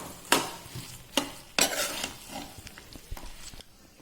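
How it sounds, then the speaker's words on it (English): A spatula stirs Pav Bhaji Maggi noodles in a pan, making several distinct scraping strokes and clinks in an irregular rhythm, close and moderately loud, with no talk. "So we'll just mix everything together."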